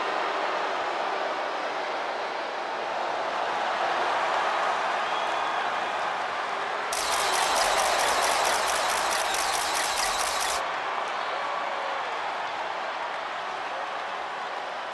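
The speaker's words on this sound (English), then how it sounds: "Tiffany Stratton getting a warm welcome from this home crowd." An arena crowd in the wrestling game WWE 2K25 roars steadily as Tiffany Stratton makes her entrance. The dense cheering holds for the whole stretch, with a brighter, louder surge partway through.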